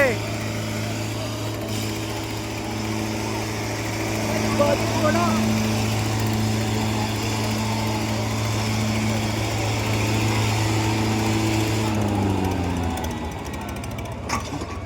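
Two tractors, a turbocharged four-cylinder Sonalika and a John Deere, strain in a tug-of-war contest at Punasa, giving a steady, loud engine drone with layered harmonic tones that shift pitch near the end under crowd voices.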